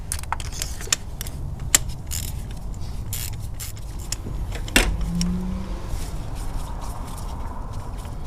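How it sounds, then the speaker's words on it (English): A ratchet with an extension unscrewing spark plugs from an engine ahead of a compression test, irregular clicks and metallic ticks at close range over a steady low hum, with one sharper knock midway. "Once I break it free and it's hand tight, then I just spin it out with the extension."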